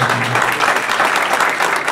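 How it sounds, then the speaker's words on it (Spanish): Applause from the audience at a public debate forum on a constituent assembly, a continuous dense clapping that stays even and fairly loud throughout the short stretch. "me gustaría solicitar un aplauso también para todos los representantes"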